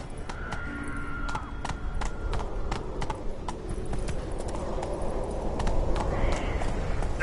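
Roach, the horse from The Witcher 3, gallops in a steady, rhythmic beat of hoofbeats over a low outdoor ambience, with faint game sounds and a brief voice in the background.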